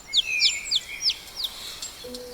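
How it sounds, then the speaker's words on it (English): A lone surviving chick chirps from forest undergrowth, giving a series of about five thin, high, rapid chirps close by, then a brief lower tone, over faint ambient quiet. "They hear a pitiful chirping coming from the undergrowth."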